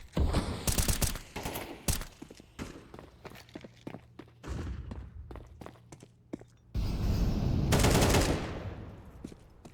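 Gunfire rattles through a Counter-Strike esports match in the ESL Challenger League: dense automatic bursts and sharp single shots come in uneven clusters, with footsteps and mechanical clicks between them and a heavy, loud burst near the end.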